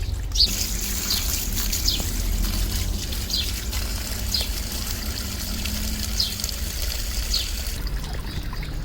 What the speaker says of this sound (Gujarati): આવી રીતે બધા પાનને બે થી ત્રણ પાણીએ ધોઈને ધોઈને એકદમ ચોખ્ખા કરી નાખવા